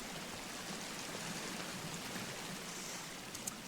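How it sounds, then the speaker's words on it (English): A small waterfall in the forest of the video game Sons of the Forest gives a soft, even rush of falling water, faint and unbroken, with only a tiny click near the end. "We have a nice little waterfall here."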